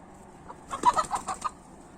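Young village chickens in a backyard coop cluck in a short burst of several soft calls, close by and fairly quiet, with no talk.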